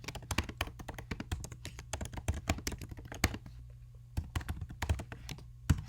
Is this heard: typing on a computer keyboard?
yes